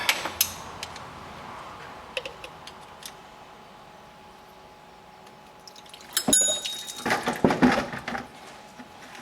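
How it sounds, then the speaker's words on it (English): A 6mm bolt on a Volkswagen Golf engine being loosened during a timing belt job: a quiet stretch, then a cluster of sharp metallic clicks and ratcheting scrapes near the end, close and fairly loud. "And take off the bottom bolt."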